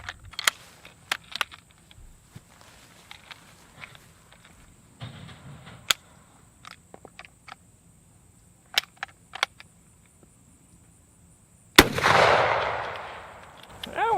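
A carbine rifle fires a single loud, sharp shot near the end with a broad, decaying blast tail, after scattered small clicks and handling noises.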